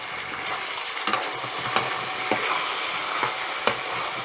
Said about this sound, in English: Now I'm frying this